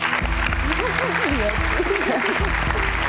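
Studio audience applause during a Georgian television show, a steady wash of clapping with a voice talking over it.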